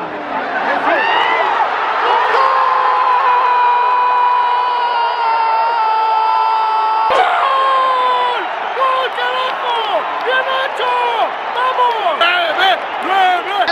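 A packed stadium crowd of Club América fans roars and shouts during a football match, a dense sustained wall of cheering and whistles with voices yelling close by, swelling and surging throughout.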